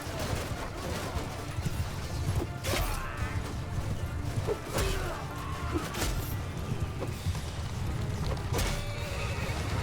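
Horses in the Mount & Blade II Bannerlord battle game neigh and whinny several times over a dense rumble of galloping hooves, clashing and battle noise, with a voice faintly underneath.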